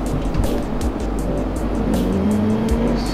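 A race car in a racing simulator roars steadily as the throttle is applied smoothly, a loud continuous engine drone with faint tire squeal, heard alone without talk.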